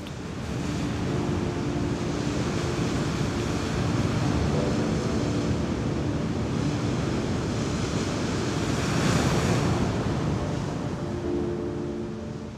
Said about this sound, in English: All year round, storms buffet Grimsey's black cliffs.